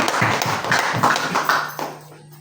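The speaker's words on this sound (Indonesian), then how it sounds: "Berikan tepuk tangan dulu untuk Mary Joyko." A group of teachers at a school workshop on positive culture gives brief applause for a presenter, a patter of light claps that thins out and fades to near silence within about two seconds.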